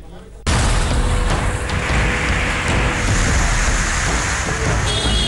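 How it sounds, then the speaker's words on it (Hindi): Heavy torrential rain pours down on the mountains during floods in Uttarakhand and Himachal Pradesh, a loud, dense, steady hiss that starts suddenly and carries on without a break. "पहाड़ों पर मूसलाधार बारिश हो रही है"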